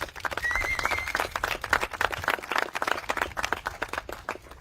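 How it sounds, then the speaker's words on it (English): A round of applause for a family at a Maui press conference held by the Governor's office, steady mid-distance clapping from a modest crowd with no speech over it. "Let's give them a round of applause."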